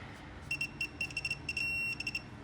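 A rapid series of high, short electronic beeps from a tool during Honda Insight maintenance chirps in quick bursts, fairly faint over a quiet background.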